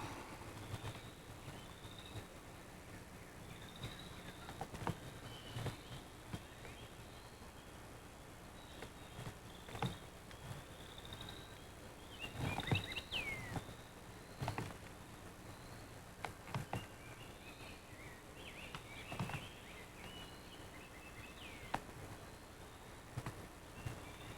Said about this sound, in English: Birds are making too much noise singing today.